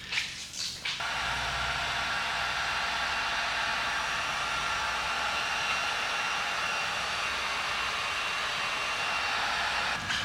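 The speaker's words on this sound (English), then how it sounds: "I'm going to heat seal this real quick" A heat gun blows steadily while heat-sealing paint protection film on a Tesla Model 3 trunk, a loud constant airy roar that starts after a brief handling noise and holds unbroken to the end.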